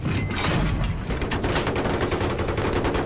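Dense, continuous gunfire from a World War battle in a 64-player video game Seine crossing, rapid overlapping shots and bursts at steady loudness throughout, with no clear speech.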